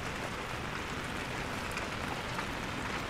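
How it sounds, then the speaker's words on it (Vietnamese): Heavy rain pouring at Sapa's Silver Waterfall during the stormy season, a dense unbroken hiss of falling water that stays loud and even from start to finish, with no voices. "hôm nay trời mưa lắm các bạn"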